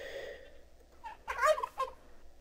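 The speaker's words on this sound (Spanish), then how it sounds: "ya estoy viendo un pavo. Vamos por el pavo." A turkey gobbles in the video game Mexicanlandia, one short burst of throaty warbling calls following a brief higher squawk, loud and close.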